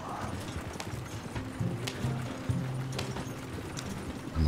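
Horse hooves clip-clopping in Red Dead Redemption 2, a steady, close, rhythmic walk of hoofbeats on hard ground that continues throughout.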